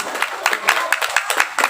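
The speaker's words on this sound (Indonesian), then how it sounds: "Tepuk tangan untuk penerbang." A seated audience at a humorous religious sermon claps briefly, a dense patter of hand claps from a crowd indoors, lasting under two seconds.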